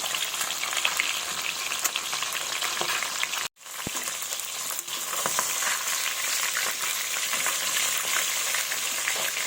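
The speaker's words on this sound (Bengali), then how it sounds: "ভালোভাবে মাছের মাথাটাকে ভেজে নেব" A large fish head fries in a generous amount of oil, filling the clip with a dense, continuous crackling sizzle nearby, briefly cutting out once before resuming at full strength.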